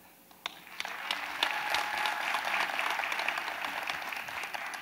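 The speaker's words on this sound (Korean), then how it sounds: "박수하겠습니다" Audience applause at a Tuesday morning gathering, beginning with a few scattered claps and swelling into steady, sustained clapping from a crowd of moderate size.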